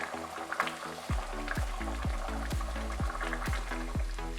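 Potato sabzi bubbles and sizzles steadily in a kadhai as it comes to a boil, with a few soft, regular pops and stirring knocks over a continuous frying hiss.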